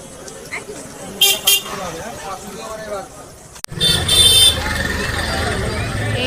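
Heavy road traffic at a Rath fair on a rainy day: car horns toot in short bursts amid engine rumble and crowd noise, with a person talking over much of it.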